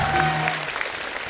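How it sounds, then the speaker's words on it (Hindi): Audience applause at a Mumbai stage show, a burst of clapping that starts loud and gradually thins out over a second or so. "इनके लिए जोरदार ताली।"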